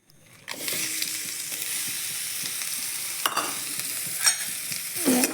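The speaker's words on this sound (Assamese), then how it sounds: "তেল পিঁয়াজ আৰু জলকীয়া আৰু তেজপাত দি দিলোঁ।" Onion, chili and bay leaf sizzle in hot oil for a festive puja dish, with a steady frying hiss that begins abruptly and continues close up, broken by a few sharp clanks of stirring.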